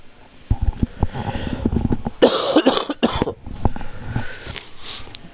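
A person breaks into a fit of repeated harsh coughs, several sharp bursts in a row up close, with a quieter stretch of muffled throat sounds afterward, at a tournament venue.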